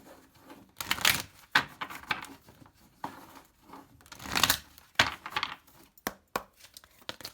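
Oracle cards are shuffled and drawn by hand, giving close, papery flicks, riffles and soft slaps in uneven bursts, some louder swells, with no talking.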